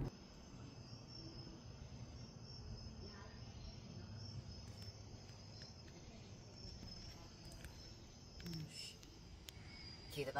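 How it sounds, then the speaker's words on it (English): Crickets and other insects chirp steadily through an outdoor night scene, a continuous high trill under soft low background rumble, with a few brief louder chirps near the end. "Cue the bugs."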